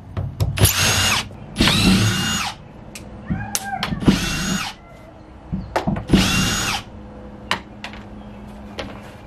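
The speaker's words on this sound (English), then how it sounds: "two people, two screw guns." Screw guns back screws out of a school bus ceiling during a tiny home conversion, with four loud, close whirring bursts of a couple of seconds each, separated by clinks, rattles and brief quiet gaps.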